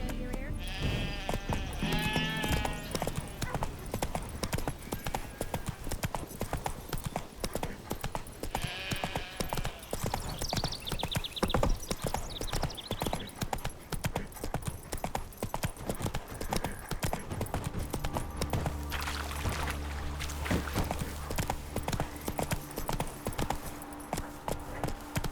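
Roach the horse galloping in the video game The Witcher 3: Wild Hunt: a rapid, continuous drumming of hooves close by, with bleating sheep and game music and effects mixed in.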